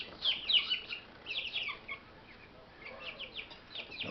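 Several chicks, including a three-week-old black copper Marans, cheep and chirp in quick high bursts, close by and fairly soft, with short pauses between clusters of calls.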